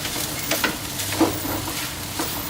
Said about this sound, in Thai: เสร็จแล้วเราจะผัดนะครับ แล้วก็ทำการยีข้าวให้แตกด้วยนะฮะเข้ากัน